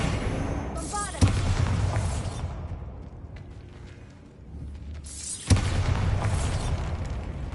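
Bombarda spell explosion in Hogwarts Legacy: a sharp blast hits, rumbles down into a quieter lull, then a second loud burst strikes and rolls on with debris-like noise, with game voices nearby.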